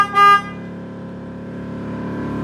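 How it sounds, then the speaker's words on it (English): A Ford Super Duty truck's stock city horn gives one short, bright honk, followed by a steady low engine hum that carries on alone. "Now, I got my city horn."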